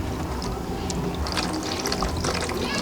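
Water poured and splashing over hands for handwashing before a meal in a Ugandan village, a continuous close trickle and splash lasting the whole stretch.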